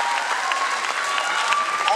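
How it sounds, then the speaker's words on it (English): A crowd applauds at a school award ceremony honouring football and hockey championship winners, steady dense clapping from a large audience throughout. "Once again, a huge round of applause, please."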